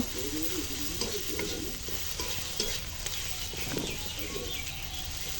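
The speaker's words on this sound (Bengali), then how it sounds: "রসুন আরও তেল দিয়েছি এখন এগুলো আমি একটু ভেজে নেব" Onion and garlic fry in oil in a karahi on a clay stove, giving a steady close sizzle with stirring scrapes, while pigeons coo softly in the background.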